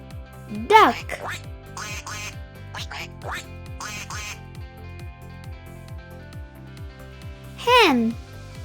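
Two loud, close duck quacks, one near the start and one near the end, stand out over a bouncy children's tune with a repeating rhythmic beat underneath, with no speech between them.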